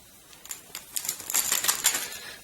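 Small game chips rattle and clack as they are dropped back into a bag during a tabletop game turn, a quick run of light tapping clicks building to a busier cluster.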